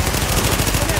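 Rapid automatic gunfire from a weapon in The Division, a fast, even burst of loud shots repeating several times a second and continuing throughout.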